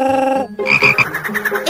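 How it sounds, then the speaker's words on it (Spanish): A frog croaks in a rapid series of bright, rhythmic pulses, loud and close, following a short tonal sound at the start with no talking. "Ella conoció a una rana."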